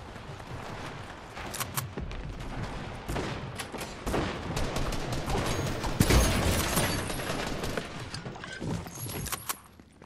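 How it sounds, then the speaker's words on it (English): A drum gun in Fortnite fires in long rapid bursts, with many sharp cracks piling on top of each other over ongoing game noise. The volume peaks around the middle and stays loud until it fades near the end. "After I get this dang mission done, I'm getting rid of this stupid drum gun."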